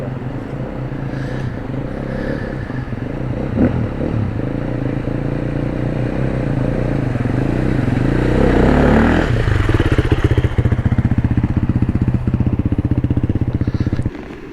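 A new 2023 Beta 500 RR-S dirt bike ridden hard on a trail near the Tallulah River after heavy rain, its engine loud and close, revving and climbing steadily before easing off at the end, with some talk faintly underneath.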